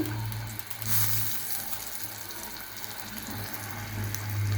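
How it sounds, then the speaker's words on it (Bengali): Spiced eggplant slices, coated in turmeric, chili, salt, ginger and garlic, fry in hot oil with a dense, continuous sizzle, close and steady, without speech. "এখন তেলে ভেজে নেব। বেগুনটা আমি দিয়ে দিয়েছি।"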